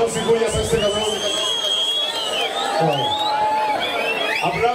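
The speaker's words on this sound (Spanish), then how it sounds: "¡Aplauso y bulla para este cabrón!" A lively crowd at a sonidero anniversary dance cheers, whoops and shouts, with a dense babble of voices over background music that stays loud throughout.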